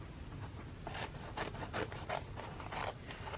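Scissors cut through folded paper for a 3D snowflake, giving several crisp, close snips spaced about half a second apart against a quiet room.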